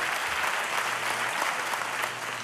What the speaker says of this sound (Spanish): muchas gracias por este aplauso, ese aplauso generoso que me dan sin que haya dicho nada gracioso